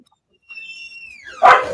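A dog gives a thin drawn-out whine that rises into one sharp bark at the end, close and fairly loud, with no talk over it.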